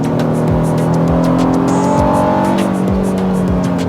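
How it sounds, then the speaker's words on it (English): A Honda Passport Trailsport with its older V6 engine pulls hard under acceleration, a steady engine drone with rising tone and road noise running throughout, fairly loud and close. "When accelerating, there's no shortage of power."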